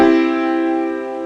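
A single triad chord rings out sustained on a pitched instrument, struck once and fading gently over about a second, clear and alone.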